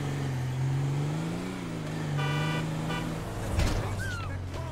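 A car horn in the FiveM driving game sounds with a steady tonal honk that shifts in pitch over several seconds, over vehicle noise and clattery game sounds.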